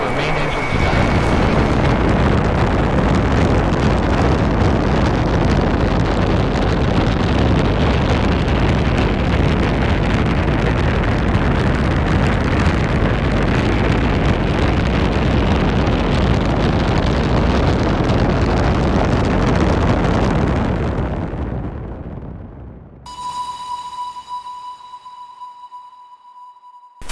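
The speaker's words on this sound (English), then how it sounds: "We have go for main engine start." Rocket main engines igniting at a launch, a loud, sustained broadband roar that holds steady for about twenty seconds before cutting away to a quieter passage.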